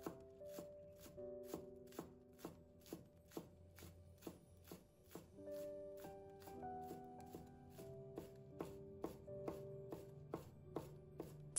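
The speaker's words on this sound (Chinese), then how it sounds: "葱叶切成葱花。" A knife chops scallion greens into small rings on a cutting board, with steady, evenly spaced crisp taps sounding close by over quiet background music.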